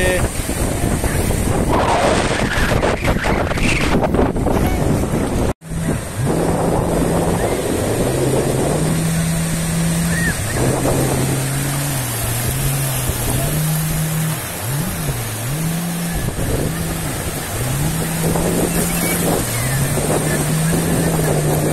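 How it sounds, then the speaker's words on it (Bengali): Ocean waves rolling onto the sand at Cox's Bazar beach, a loud, steady roar with wind buffeting the microphone and a brief dropout, while a voice hums or calls in a wavering tone over the surf. "ভয়ঙ্কর ঢেউ। ঢেউ আসতেছে।"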